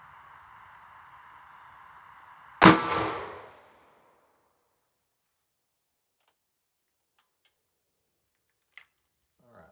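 A single sharp gunshot fires a Hornady 158gr flat point XTP bullet into a gel block, a loud crack with a short ringing decay, following a steady background hum and followed by near silence with a faint click.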